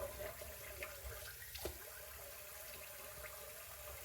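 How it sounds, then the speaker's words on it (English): Cold water running from a bathroom sink tap over hands after a shave, a steady soft rushing stream heard close but quietly, with a few small splashes and no talk. "I'm going to run some cold water on the hands"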